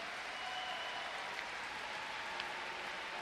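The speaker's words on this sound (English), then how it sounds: "The Chinese players are all clapping. There's a big contingent clapping now." A large group of Chinese spectators claps at a table tennis bronze and gold medal match at the 2012 London Paralympic Games. The applause is soft, steady and continuous, and sounds distant.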